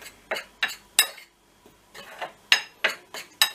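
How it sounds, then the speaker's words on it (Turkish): Creamy mushroom chicken being stirred in a pan, the utensil scraping and clinking against the metal in about nine short, sharp strokes with brief pauses, close and clear with no talking. "karıştırıyoruz"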